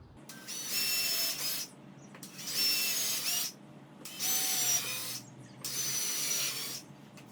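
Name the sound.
drilling pilot holes in wooden workbench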